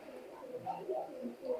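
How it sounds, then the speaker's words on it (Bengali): A pair of Teddy 128 pigeons, a male and a female, coo softly and repeatedly at close range in short warbling bursts over a quiet background. "মাশাআল্লাহ চমৎকার একটা পেয়ার কবুতর"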